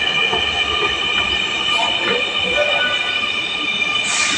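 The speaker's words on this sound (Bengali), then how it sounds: "দেখুন একটা ট্রেন এসে গেছে।" A Dhaka metro rail train pulls into an elevated station, giving a steady close rumble with faint wheel squeal and a brief hiss of brakes near the end.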